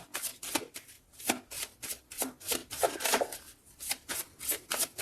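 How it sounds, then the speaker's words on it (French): A tarot deck is shuffled quickly and steadily close up, giving soft, rhythmic riffles and card slaps, then a card is drawn, all quiet with no talking. "Allez, une carte pour cet masculin."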